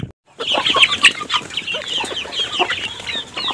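Chickens cluck and chatter continuously in a farm flock, several birds overlapping at close range with busy, uneven calls and no talking.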